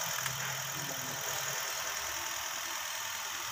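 A Nissan Almera engine idles smoothly and evenly after a spark plug replacement, a steady, fairly quiet hum with broad hiss and no talk.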